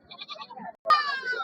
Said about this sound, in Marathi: बिटल क्रॉस दिसते शेळी.